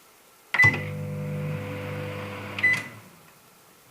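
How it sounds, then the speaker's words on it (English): A microwave oven with a phone inside starts with a beep, hums steadily for about two seconds, then stops with another beep, heard close and loud with no talking. "It's inside the microwave."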